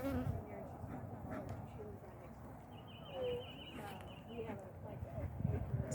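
Honeybees buzz in a dense continuous drone during a hive inspection as smoke is used between frames, with people talking over the swarm throughout.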